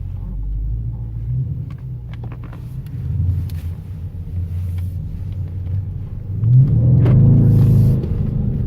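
A 2017 Dodge Charger R/T with a 5.7-litre Hemi V8 accelerates, heard from inside as a deep low engine rumble that swells noticeably louder toward the end.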